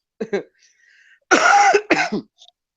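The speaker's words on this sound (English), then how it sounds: "So, how's your cough doing?" A couple of short coughs, then a longer harsh cough and throat-clearing burst, close up and loud with quiet gaps in between.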